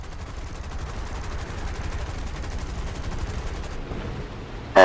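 Aircraft guns in the War Thunder video game fire in a steady, rapid stream of shots, continuous and fairly loud, ending with a brief louder burst.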